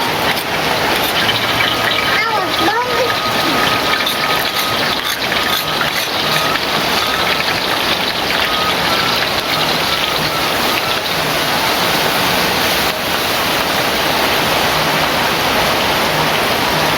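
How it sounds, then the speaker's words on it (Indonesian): Heavy rain falls steadily and loudly throughout, a constant hiss and patter close to the microphone during outdoor cooking of spicy goat-head curry, with no pauses. "Kebetulan hari ini adalah hujan ya sobat, jadi prosesnya agak sedikit sulit nih."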